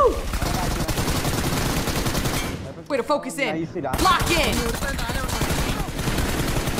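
Rapid video-game gunfire while riding on the back of a manta ray, dense bursts of shots almost continuous with a brief lull midway, as excited voices talk over the shooting.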